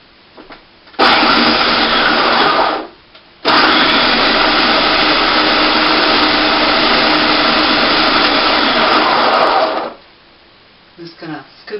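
Food processor blending apple for a no-bake apple pie, a loud steady motor whir running in two long bursts with a brief pause between them, then stopping.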